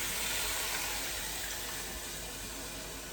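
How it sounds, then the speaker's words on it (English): Water poured steadily from a tap into a pot of beef oxtail for Jamaican oxtail, a continuous close gushing rush that eases slightly toward the end, with no talk. "So I will start by adding 1 pint of water."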